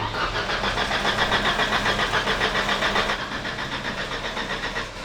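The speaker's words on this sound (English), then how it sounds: "Let's see if our starter button still works." Formula 1 car on its starter button, a steady close mechanical whir of the starter and fuel pump running continuously, loud, with no talking.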